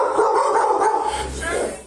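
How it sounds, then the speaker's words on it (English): Several dogs, one of them a pit bull, bark and yip repeatedly at a home, loud and close, over a voice talking to them. "These dogs bite."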